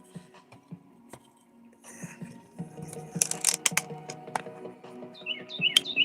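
Red-winged blackbird calls a few times toward the end, faint and somewhat distant, over a busy outdoor backdrop of soft rustling, clicks and shuffling noises.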